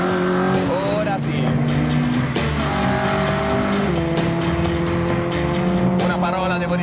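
A Peugeot 106 Rallye engine revs and drops through gear changes, with rumbling bumps over track curbs and tire noise as it drives hard; talk is not clearly audible.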